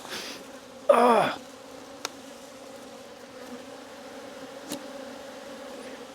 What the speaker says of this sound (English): Now the bees are going nuts.